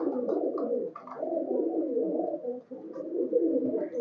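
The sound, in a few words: high flyer pigeon cooing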